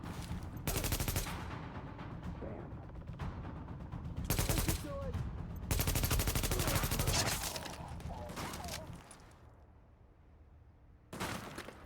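Loud shotgun blasts in a post-apocalyptic New York shooter, several separate booming shots each leaving a broad burst of noise, spaced a second or more apart with quieter gaps between.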